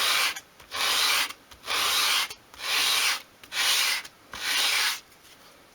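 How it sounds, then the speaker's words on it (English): Sandpaper rubbed over a bevelled edge of a small wooden piece for dolls house furniture, six even back-and-forth strokes with short pauses between, close and clear with no voices. "Again, slight bevel there, so I would again sand that."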